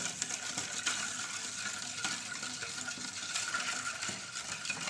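Jaggery being stirred into a vattalappam mixture in a bowl, with soft continuous swishing and occasional faint clinks of a utensil, close and quiet with no talking.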